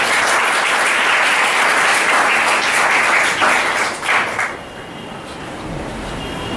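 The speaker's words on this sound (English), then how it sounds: "A big applause to the entire staff." An audience gives event staff a loud, sustained round of applause, dense clapping that fades out abruptly near the end, leaving quiet room tone.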